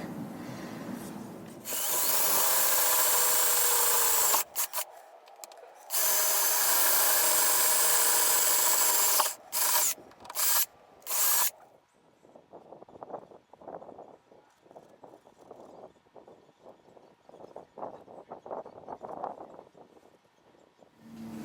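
A power drill with a 1/2 inch bit drills holes through the metal of a Sprinter van in two loud sustained whining runs, then several short bursts, followed by softer scraping and tapping.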